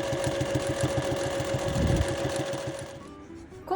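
Sewing machine running steadily at close range, double-stitching seams on a handmade wire-frame backpack, a fast even mechanical chatter that stops near the end.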